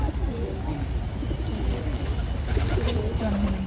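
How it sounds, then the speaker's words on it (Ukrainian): Pigeons being fed outdoors coo in soft, low, repeated murmurs over steady outdoor background noise, the calls overlapping faintly throughout. "годування голубів це свого роду медитація"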